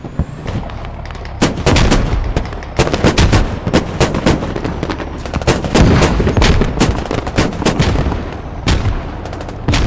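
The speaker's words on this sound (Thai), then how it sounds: "ใครจุดประทัดวะ" Firecrackers going off in a video game, a rapid, dense barrage of loud cracking bursts that rattles on almost continuously, like heavy gunfire, with no voices over it.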